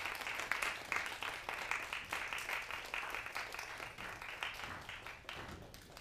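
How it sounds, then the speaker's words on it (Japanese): An audience applauding the director and cast after a film screening stage greeting at a cinema festival hall, steady dense clapping from a crowd that holds for several seconds and slowly fades. "皆様盛大な拍手でお送りください"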